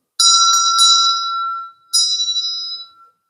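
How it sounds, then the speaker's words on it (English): A bright bell rings twice, the first strike sustaining with a couple of quick retriggers and decaying, then a second strike after a short pause, clear and alone with no talk. "I'll ring a bell there."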